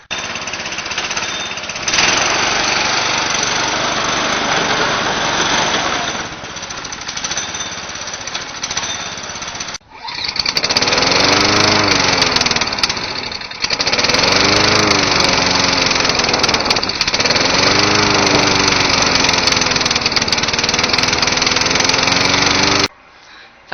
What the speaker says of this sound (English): This is my John Deere 20 horse OHVIC Briggs & Stratton engine.